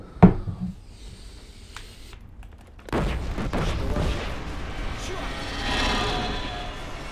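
A train crashing in the shooter video game Killzone Shadow Fall: a sharp bang opens, then after a lull a heavy rumbling crash with debris and bursts rolls on loudly to the end.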